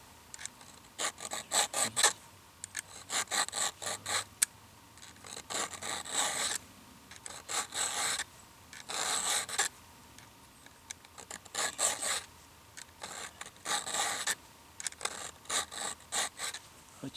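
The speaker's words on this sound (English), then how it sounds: "holding your file about like this at 30 degrees to the tooth, and come in right there and give him about 10 passes." A hand file rasps across a chainsaw chain tooth in bursts of quick, gritty strokes, each group separated by short pauses, close and fairly quiet.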